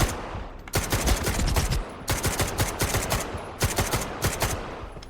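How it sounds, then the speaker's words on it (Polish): Bursts of rapid gunfire in S.T.A.L.K.E.R. 2, three long volleys separated by brief pauses, loud and close. "oddając jeszcze tutaj parę strzałów"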